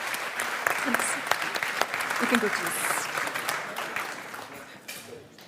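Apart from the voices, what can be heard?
audience applause at award show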